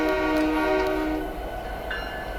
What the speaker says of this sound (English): Yeah, that horn is garbage.